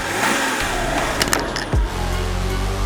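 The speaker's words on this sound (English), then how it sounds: "M57, the 3-liter diesel. Oh yeah. This does sound like a tractor," A BMW E46 Touring's M57 3-liter diesel engine runs with a steady, low, rough idle, giving a tractor-like rumble. Near the end comes a short sweeping whine, and the engine settles back into its even drone.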